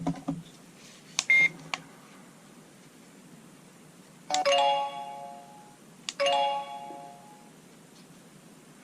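A solar-powered driveway alarm receiver chimes its channel tune, a short electronic ding-dong melody heard twice after a brief button beep, clear and close in a quiet room.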